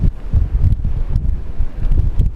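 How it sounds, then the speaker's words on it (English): Strong wind on the Brittany coast, France, roars across the microphone in steady low gusts, loud and continuous, with no voices. "You can tell how windy it is because my hand's moving with the wind."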